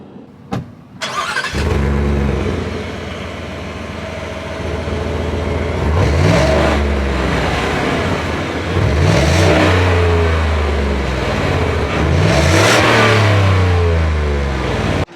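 Naturally aspirated 5-liter V8 in a 2025 Ford F150 Tremor starting with a sharp crank, then revving repeatedly in loud rising and falling sweeps over a deep idle, heard close and with no talk.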